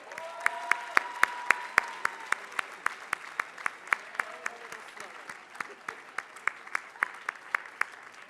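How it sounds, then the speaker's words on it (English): Applause at a medical school class day ceremony as students approach the podium: a steady run of sharp individual claps, fairly sparse and distinct, continuing for the whole stretch without talk. "let's give them a round of applause"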